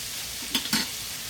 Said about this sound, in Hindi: और इस तरह से मिक्स करेंगे